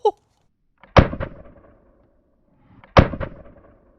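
An airsoft tracer grenade launcher fires twice about two seconds apart, each a sharp close pop followed by a short ringing rattle that fades quickly, with no talking.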